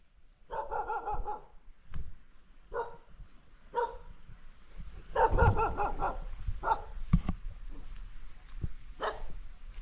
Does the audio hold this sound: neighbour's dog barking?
yes